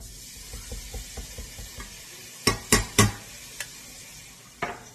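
Minced garlic goes into hot oil for stuffed chicken, with soft scraping stirs at first, then several sharp loud clacks of utensil against pan, over a low faint sizzle.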